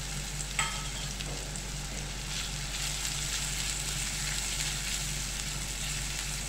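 Curry leaves hitting hot oil with frying onion for aloo kurma, a dense, continuous sizzle and crackle close up with a brief sharper spatter near the start, no voices.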